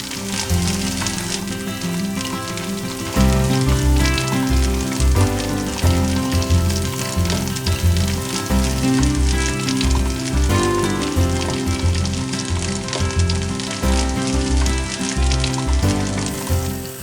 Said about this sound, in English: Once it's hot, I place the meatballs in it and let them brown on all sides.